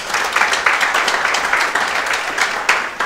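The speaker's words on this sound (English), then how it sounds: "Can we give him a big round of applause?" An audience at a leadership dialogue event claps loudly and continuously for a guest, a thick wash of many hands with small bursts of louder claps rising and falling throughout.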